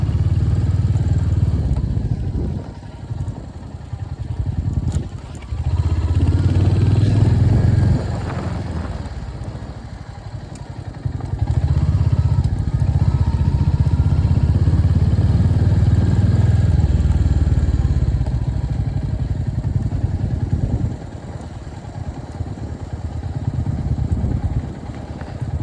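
A Hunter 350 motorcycle ridden through the Nathang Valley in Sikkim, its engine loud and close as it rumbles steadily, alternating between fuller throttle stretches and quieter coasting in neutral, with wind and road noise throughout.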